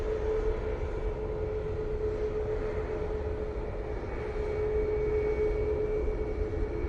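A Juneyao airliner departs from runway 05 right at Manchester Airport, its engines producing a steady, loud, broadband roar with a sustained tonal hum that holds through the whole stretch, with no one talking.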